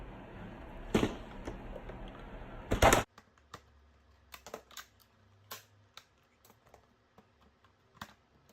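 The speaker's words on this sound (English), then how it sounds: "you're gonna go along and you're gonna cut all these blocks, or locks, whatever you wanna call them, obstructions" Plastic locking clips being cut off a Brother GT361 ink cartridge: a few sharp snips and cracks early on, then quieter scattered clicks and ticks in a near, quiet room.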